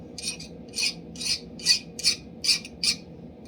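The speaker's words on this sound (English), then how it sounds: "Check it with the handy dandy chainsaw file." A chainsaw file rasps across the edge of a Viking-style hand axe in seven evenly spaced, close strokes, each a gritty scrape with brief pauses between.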